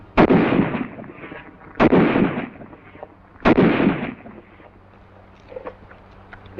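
A Tommy gun fires three loud, sharp bursts about every 1.7 seconds, each with a short decaying tail and quieter pops afterward, close and without talk.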